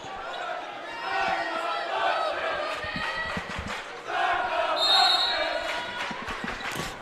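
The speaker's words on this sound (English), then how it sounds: "An all too familiar start the buses cheer coming from the Crater Comets" Crater Comets fans in the stands at a high school basketball game against Eagle Point break into a loud, sustained bus cheer, crowd voices swelling across the gym with a brief dip and renewed surge midway, a few scattered thuds and squeaks underneath.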